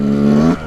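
Yamaha YZ 125 two-stroke dirt bike engine held at high revs for a brief moment, a loud buzzing tone that cuts off abruptly.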